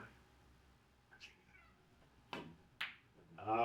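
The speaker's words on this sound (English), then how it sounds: "There's the cat." A cat meows indoors in a couple of short, close calls near the end, after a mostly quiet stretch with a few small knocks.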